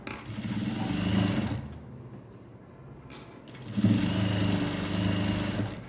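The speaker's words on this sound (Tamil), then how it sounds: "இது மேலே நம்ம இன்னொரு படிமான தையல் போடுவோம் இந்த ஓரத்துலேயே வரணும்" A sewing machine runs close by stitching along the edge of a blouse patti, two steady whirring bursts separated by a short pause, loud and alone without speech.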